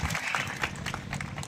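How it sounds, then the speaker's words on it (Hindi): Brief crowd applause at a pension rally, a burst of clapping mixed with faint voices. "एक शानदार ताली आपके लिए भाई"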